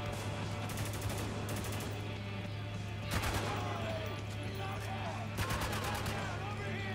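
Gunfire from a gunfight in the video game Spec Ops The Line, with rapid bursts of automatic fire and scattered shots over a steady background hum, louder volleys near the middle and end.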